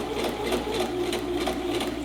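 A domestic sewing machine runs a continuous basting stitch on a skirt ruffle, a steady close whirring hum with a regular rapid pulse that carries through the whole stretch without pause.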